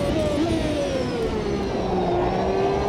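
A 1993 Ferrari F1 car in Automobilista 2 screams at high revs with a steady, piercing engine whine that sweeps gradually downward and then holds, loud and continuous with no pauses.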